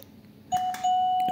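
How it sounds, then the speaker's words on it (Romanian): A Xiaomi Linptech G6LW wireless doorbell chime rings indoors, a clear sustained electronic tone that starts abruptly, briefly dips, then resumes and holds steady, close and fairly loud with light clicks around it. "Noi am înlocuit soneria veche cu acest model de sonerie wireless"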